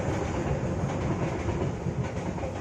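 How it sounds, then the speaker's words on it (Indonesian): A train rolls past close by, a continuous loud rumble with rhythmic clickety-clack of wheels on rails, no voices heard. "denger kan, kereta lewat"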